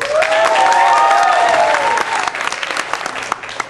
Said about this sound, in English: you have permission to clap louder or scream or shout